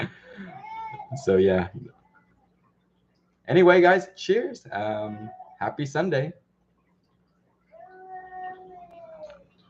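A baby whimpers and fusses in short, thin cries at the start and end, while an adult talks in between.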